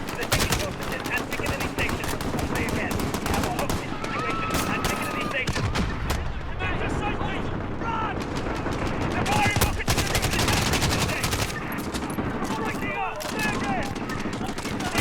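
Constant bursts of distant gunfire in Call of Duty: Modern Warfare crackle through a dense, noisy game mix, rapid automatic volleys and scattered shots layered with voices talking throughout.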